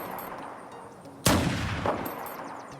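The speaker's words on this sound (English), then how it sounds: "I am loving the sound of that M44 Magnum." A single loud M44 Magnum shot from the game Unturned with the Freedom Strike Mod cracks sharply, then rolls into a long echoing tail, with a second softer report trailing behind it, over quiet ambient background.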